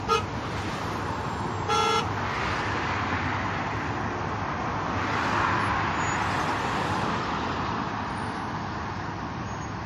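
Dense road traffic in Kuwait on the first day of a lockdown, a steady loud roar of passing cars with a couple of short horn toots near the start, no voices.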